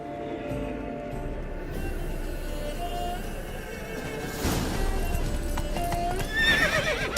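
Horse hooves clip-clopping at a gallop with a whinny near the end, from the video game The Witcher 3, loud and steady with game ambience beneath.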